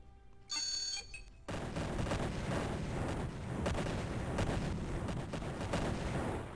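Units open fire with weapons in the space strategy game Imperium Galactica: a short electronic tone, then a steady, loud barrage of overlapping gunfire bursts.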